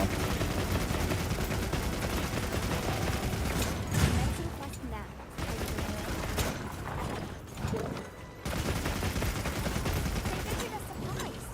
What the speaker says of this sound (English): let's equip the machine gun, and let's Uzi the monster